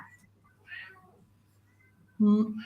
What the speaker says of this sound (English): I've got the other cat coming to attack me now.